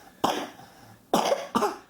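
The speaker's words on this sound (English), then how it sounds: "See, there's that cough." Three sharp coughs, close by: one, a pause, then two in quick succession, with quiet in between.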